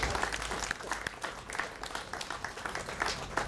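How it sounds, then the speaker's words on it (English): A crowd applauds at an outdoor ribbon cutting for a newly unveiled mural, steady clapping from many hands holding fairly even for a few seconds without any talking. "let's just hear it for James"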